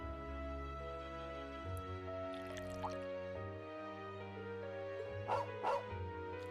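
A dog in a video game barks several times, with a couple of yips early on and a close pair of barks near the end, all over a sustained musical background.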